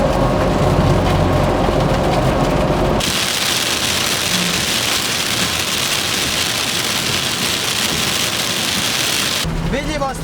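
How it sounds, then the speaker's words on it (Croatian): Heavy rain mixed with hail pounds the hood of an old Fiat (Fića) car during a violent storm, a dense, loud, unbroken drumming close by that shifts in tone partway through, without speech. "Čak na momente čujem kako u haubu udari tuča"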